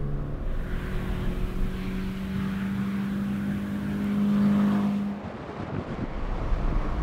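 A Scion FR-S or Subaru BRZ with an automatic transmission driving on a track, its engine holding a steady drone that climbs in pitch, then a shift and the note drops as it keeps pulling.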